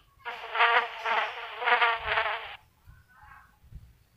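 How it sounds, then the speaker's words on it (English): A housefly buzzes close by for a little over two seconds, its drone swelling and dipping in loudness as it moves, before fading to faint background noise. "fly."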